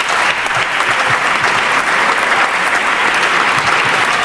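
Loud, sustained applause in the Portuguese parliament, many hands clapping in a dense unbroken roar that fills the chamber, close and steady throughout.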